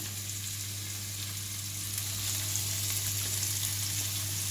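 Chicken livers fry in a pan ahead of caramelizing with honey, a soft continuous sizzle over a low steady hum, rising slightly partway through, with no talking.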